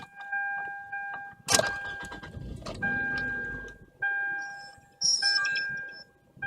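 A 2006 Toyota Camry Solara SE comes alive with a brief cranking burst and a settling idle, surrounded by repeated electronic chimes, clicks and key or door sounds close by in a quiet car.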